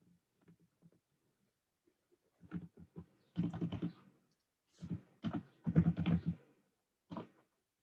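Typing a web link on a computer keyboard, close soft key clicks in short irregular bursts separated by pauses, alone and quiet.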